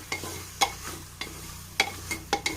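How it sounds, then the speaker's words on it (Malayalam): Chicken sautéing in a pan over a medium-high flame, with a soft continuous sizzle under sharp, irregular scrapes and clinks of a utensil stirring against the metal, about six distinct strokes. "ഞാനിപ്പോൾ ഇത് ഇളക്കിക്കൊണ്ടിരിക്കണം"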